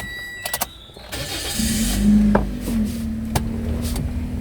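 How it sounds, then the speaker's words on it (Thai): A 2016 Toyota Yaris engine cranks and fires up, settling into a steady idle hum, with a few clicks and knocks beforehand and another sharp tap near the end. "คุณลูกค้าเดี๋ยวผมสตาร์ทรถคุณลูกค้าดูเลย"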